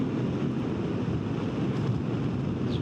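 Strong wind buffets the microphone outdoors near the border with China as dark rain clouds gather, a loud, steady rumbling roar with no breaks, no voices.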